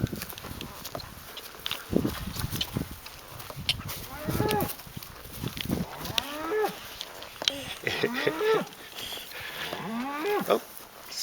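Cows moo repeatedly on a farm, several drawn-out calls at varying distances, with horse hoof clip-clops and a little background activity in between.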